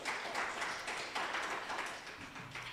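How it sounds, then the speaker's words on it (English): Faint, distant applause from an audience at a university peer network event, a soft continuous patter of clapping hands that fades slightly toward the end. "Let's give Kolofelo another round of applause"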